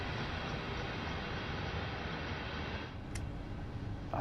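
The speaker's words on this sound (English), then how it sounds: "it's a freight train going around the outside" A freight train in Train Sim World 2 rumbles past on the outer track as a steady broad roar with rolling wheel noise, continuous and fairly loud throughout, with a brief high tick near the end.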